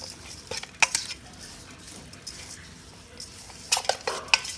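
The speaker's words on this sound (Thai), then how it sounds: "คนให้ส่วนผสมเข้าเนื้อก่อนนะคะ คนแล้วเราจะบี้บี้เนื้อปลาดุกให้กระจายนะคะ" Catfish larb being stirred in a bowl: soft scraping and mixing with scattered sharp clinks of a utensil against the dish, clustered at the start and near the end.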